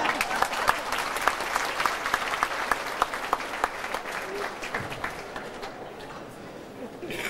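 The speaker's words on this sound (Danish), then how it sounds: "vi skal klappe af de to herrer derovre" Audience applause after a brass band concert at Hotel Nyborg Strand, a dense wash of many hands clapping with sharp individual claps standing out, steady and close, tapering off toward the end.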